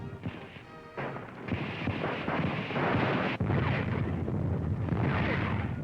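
A Stuka dive bomber shot down and crashing in World War II North Africa: rough, booming crash and rumbling explosive noise, swelling louder midway and sustained, with distant bursts of fire.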